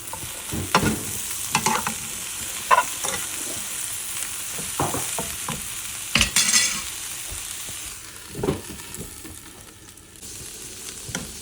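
Pitha frying in a pan with onion paste and green chillies, a steady sizzle broken by repeated stirring scrapes and clinks at close range, with no talk.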